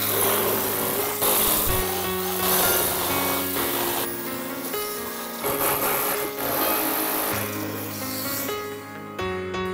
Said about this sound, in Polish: Biorę wiertło dziesiątkę i wiercę.